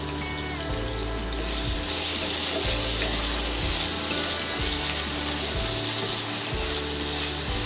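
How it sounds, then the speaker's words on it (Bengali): Potatoes with sliced onion frying in oil in a home kitchen pan for mutton ghugni, a steady bright sizzle under intermittent low scraping and stirring thumps, with no voices. "আলুর সাথে আমি এটাকে ভালো করে ভেজে নেব"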